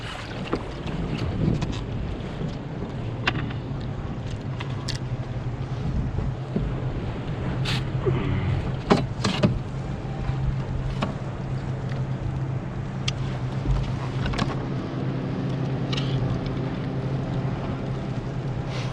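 A boat's trolling motor drones steadily on open water during crab-baited jig fishing. Gusty wind buffets the microphone, and scattered knocks and clunks sound from the hull, with no talking.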